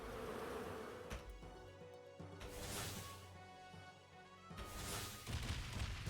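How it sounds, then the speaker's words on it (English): Buzzing of bees in the roguelike video game Dungeonmans, a dense steady drone mixed with thumps and other game sounds, fairly quiet and with no talk. "Bees, please."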